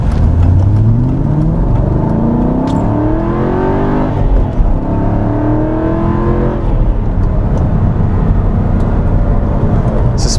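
An Aston Martin V8 Vantage with 63,000 miles on it, its V8 engine running loud and steady while driving, with revs rising and falling through the gears and no talk.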